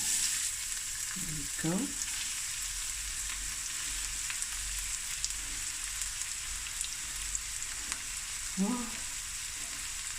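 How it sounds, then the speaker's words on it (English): Chopped large onion sizzles steadily in a hot pan, a constant close hiss that runs the whole time, with a brief spoken remark near the start and near the end. "my pan is nice heated. I've got one large onion that I've chopped up."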